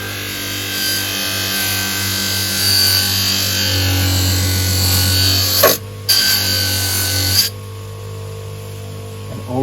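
A power polisher runs steadily on a steel sheet with no polishing compound, giving a continuous close whirring drone with brief dips and bumps as the pad shifts, then a lower, quieter hum toward the end.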